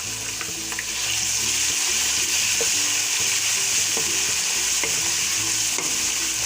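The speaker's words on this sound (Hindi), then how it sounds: "थोड़ा सा इसको फ्राई करेंगे।" Crushed garlic and ginger sizzle loudly in hot oil, with repeated scraping stirs of a spoon against the pan over a constant frying hiss.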